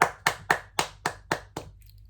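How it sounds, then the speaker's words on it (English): A short burst of seven sharp, evenly spaced claps close by, slowing slightly before stopping, heard alone in a quiet room with no talking. "Round of applause."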